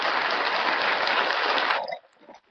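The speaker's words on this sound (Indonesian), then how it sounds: "Tepuk tangan untuk Pak Wijaya." Applause from the audience of a live IT investment webinar in Pekanbaru: a dense, steady wash of clapping that holds for nearly two seconds, then cuts off abruptly into near silence.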